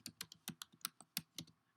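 Typing on a computer keyboard, a quick run of about ten crisp, close key clicks in an uneven rhythm, quiet and alone.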